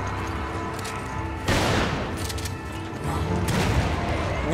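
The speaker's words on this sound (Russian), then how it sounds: "мне не нравится, потому что они стреляют." Gunfire bursts in co-op play of the video game Resident Evil 5, loud rattling volleys starting mid-clip over a busy game soundtrack, a second burst following about two seconds later.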